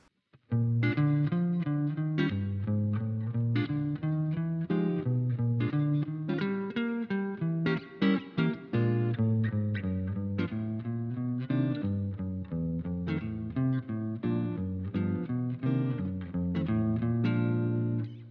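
Guitar plays a jazzy blues chord progression, chords struck rhythmically and changing often, clean and fairly close, alone with no speech.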